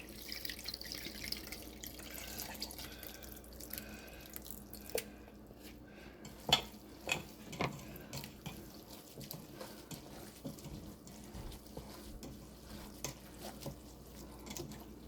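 Tamarind soaking water trickles and splashes into a bowl of cooked rice in a home kitchen, quiet and close, with a few sharper drips and spatters midway.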